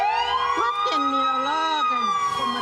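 A wailing car alarm siren at a vehicle fire rises and falls close by, its pitch sweeping up and down continuously without pause.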